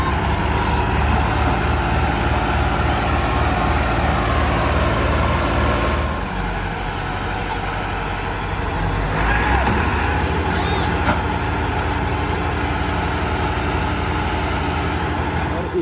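A tractor strains to pull a trolley stuck with its rear tyres sunk in waterlogged ground, its engine roaring loud and close with a continuous heavy drone that dips briefly midway.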